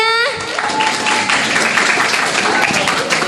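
An audience applauds at a digital literacy training event held at a junior high school, broad steady clapping filling the room after a brief voice at the start.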